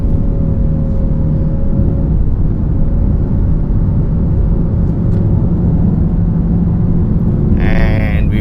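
A 2019 Nissan X-Trail 2.5L AWD engine pulls hard through the gears, with a loud, steady cabin drone that climbs gradually in pitch, and a brief higher whine near the end.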